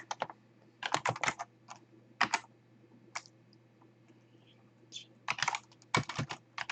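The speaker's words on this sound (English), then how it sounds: "I type something, okay?" Quick bursts of keystrokes on a computer keyboard, close and crisp, arriving in short clustered runs separated by brief quiet pauses in an otherwise still room.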